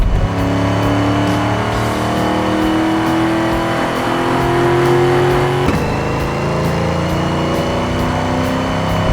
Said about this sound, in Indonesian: Bagaimana jika kita tarik sedikit mobil ini ya, coba.